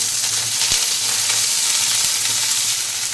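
Chopped onion and small-cut snake gourd fry steadily in hot oil, a continuous close, even sizzle with faint stirring knocks, no voices.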